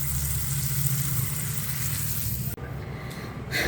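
Hot spice tempering is poured into yogurt, a steady close sizzle and hiss that cuts off abruptly partway through, then a quieter crackle returns, with no talking.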